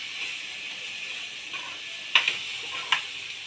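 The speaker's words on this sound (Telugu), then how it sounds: "స్టవ్ సిమ్లో పెట్టుకొని ఇవన్నీ బాగా వేయించుకుంటా" Sweet corn fries in a pan over a low flame with a soft, steady hiss and a few faint clicks of a utensil against the pan. Close and quiet, with no talking.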